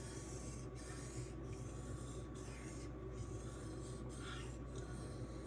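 Kitchen knife ground on a Suehiro Debado whetstone, a steady close wet rasping scrape with faint rhythmic breaks as the blade moves in long passes.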